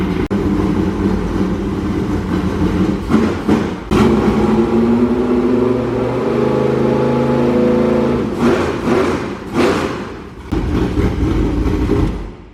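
A race car engine idling and revving after a wreck, loud and close, with a rough steady drone that rises and falls through several throttle blips and sharp surges.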